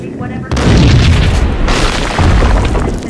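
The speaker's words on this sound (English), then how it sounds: "I thought it was a bomb for sure." A loud, close explosion in Max Payne erupts as a deep boom after a short quiet lead-in, followed by rumbling debris and a second heavy burst, with a voice mixed in.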